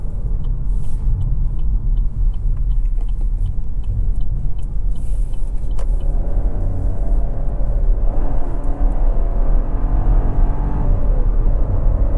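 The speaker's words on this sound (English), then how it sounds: "See right there, once that 6-speed automatic just downshifts, it really takes off." A 2024 Chevy Trax 2RS with a 1.2-liter three-cylinder and six-speed automatic downshifts and pulls hard, its engine note rising steadily from a loud, steady cabin rumble as revs climb, with no talking.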